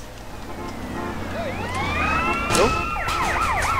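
Police car siren from GTA San Andreas, wailing and sweeping up and down over a steady traffic rumble, growing slightly louder toward the end with overlapping siren tones.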